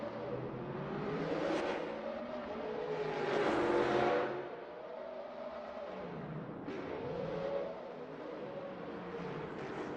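Drift cars racing in a sim racing game at Okayama, a BMW against a big Mitsubishi, with engines revving and whirring steadily throughout, swelling louder around the middle before easing off, with no talk.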